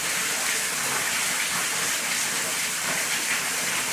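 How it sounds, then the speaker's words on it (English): Water flowing beneath the floor of an old stone tower, a loud, constant rushing hiss with no break, steady from start to finish. "that is actually flowing water that's running directly underneath my feet"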